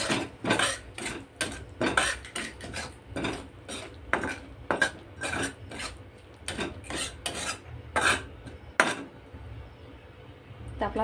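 Green chilli pickle masala being stirred into hot oil in a pan off the heat, a rapid series of raspy scraping strokes of a spoon against metal, fairly close and rhythmic, with a faint voice now and then.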